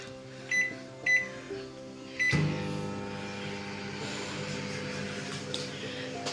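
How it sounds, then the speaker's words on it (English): A kitchen microwave oven is set for four minutes: a few short beeps, then a door thunk as it starts into a steady, even hum with a faint rattle, running alone. "put them in the microwave. I will try it for 4 minutes."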